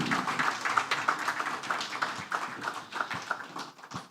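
Steady crowd clapping at a bank's breakfast meeting after a speech on trade, a continuous patter of many hands at moderate loudness with a few sharper individual claps standing out.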